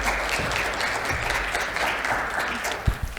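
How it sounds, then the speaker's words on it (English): Audience applause in a conference session at RSNA 2021, a steady wash of many hands clapping throughout, fairly close and full, with a couple of brief low thumps near the end. "you can give a round of applause"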